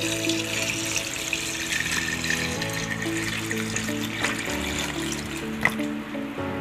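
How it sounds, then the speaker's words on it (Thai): Water pours steadily into a pot containing sliced ginger, with a continuous trickling splash, close by and moderately loud, with a faint background hum. "เทน้ำสะอาดใส่ลงไปนะคะ"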